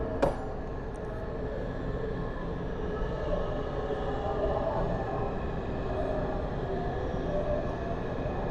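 Washington DC Metro train at Metro Center station, a steady rumbling of rail cars and platform ambience at moderate level with a brief sharp click near the start.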